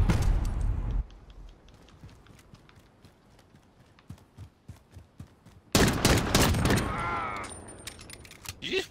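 Gunfire in Modern Warfare Warzone: a scatter of sharp, quiet shots and footsteps, then a sudden loud burst of rapid fire near the end.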